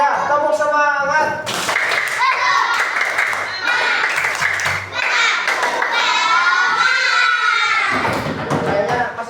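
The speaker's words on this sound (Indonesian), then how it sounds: "Satu, dua, tiga, tepuk semangat." Schoolchildren in a classroom chant and clap together in a rhythmic spirit clap, loud and close, with voices dominating over the clapping throughout.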